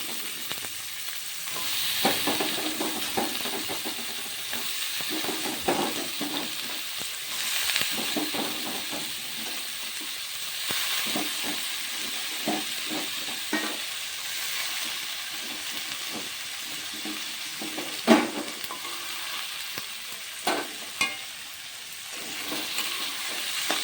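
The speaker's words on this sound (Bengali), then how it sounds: "এভাবে বন্ধুরা আমি একটু ভালোভাবে সবজিগুলো নেড়ে নিই" Cauliflower florets and mixed vegetables sizzle steadily in a frying pan, with a continuous hiss of hot oil broken by irregular scraping stirs and a few sharper clinks near the end, close and moderately loud.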